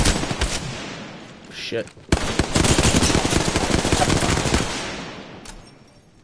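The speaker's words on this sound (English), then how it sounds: "I'm getting shot at." Rapid automatic gunfire aimed at the player in Apex Legends, loud and sustained with a short pause before the burst resumes and then fades, while a player swears briefly.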